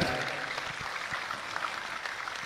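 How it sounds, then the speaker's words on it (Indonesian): An audience at a live outdoor sholawat religious music event claps together in a steady wash of applause, moderately distant and fairly quiet, lasting a couple of seconds. "tepuk tangan untuk Az-Zahir"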